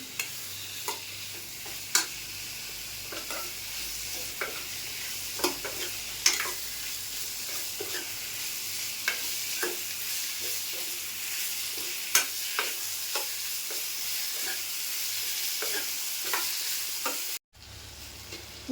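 Close, continuous sizzling in a pan as ingredients for a spicy Malvani-style shark fish gravy are sautéed, with a spoon scraping and tapping the pan at irregular intervals throughout.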